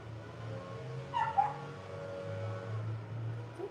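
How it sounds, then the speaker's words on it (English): Small dogs whimper and yip indoors, thin high whines rising briefly in the middle over a low steady hum, fairly close and moderately quiet, with no talking. "The little dogs have a lot to say."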